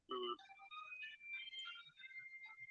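A phone ringtone goes off, with a short electronic melodic jingle of rising and falling tones, fairly quiet and heard alone.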